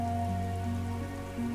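Steady rain falls in the video game Disco Elysium, a continuous soft patter layered over a low, sustained musical drone, with no voices.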